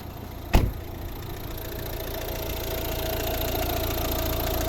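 A 2012 Volvo V60 1.6 HDi diesel engine idles steadily up close, a low rumbling drone with faint knocking, after a brief thump near the start.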